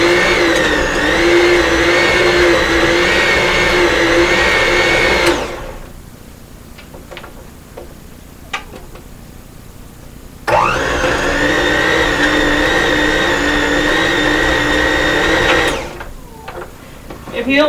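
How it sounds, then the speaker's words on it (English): Electric stand mixer running on its lowest speed through cookie dough, a loud steady whirring drone in two long runs with a short pause between, no talk over it. "I'm going to put it on 1, lowest setting possible, so my mixer doesn't go crazy on me."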